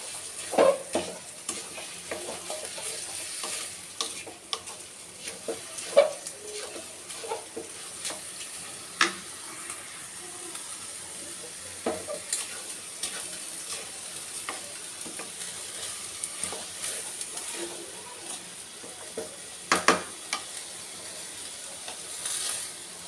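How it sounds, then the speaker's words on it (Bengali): Polao rice stirred and fried in a pan, a quiet, steady sizzle broken by frequent light scrapes and taps from the spoon over a long stretch. "এবার ভালো করে একটু নেড়ে ছেড়ে নেব পোলাওয়ের চালগুলো দিয়ে এটা একটু ফ্রাই করে নেব চালটাও"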